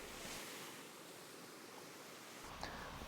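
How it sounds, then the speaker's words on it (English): Surf waves break on a sandbar along a shoreline, a faint, steady wash of rushing noise with a slight swell toward the end and no voices. "Waves breaking on the sandbar indicate a push of water into the shoreline."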